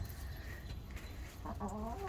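Chickens cluck softly over low background noise, and a short clearer burst of clucking rises near the end.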